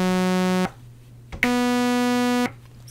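A Behringer Crave synthesizer plays two buzzy sustained notes with zero attack and full sustain. Each one starts instantly at full volume, holds steady and cuts off abruptly, with a short silent gap between them.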